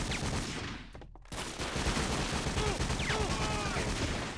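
Dense gunfire in 50 Cent: Bulletproof, rapid loud bursts of shots firing almost continuously, with a brief gap near the start.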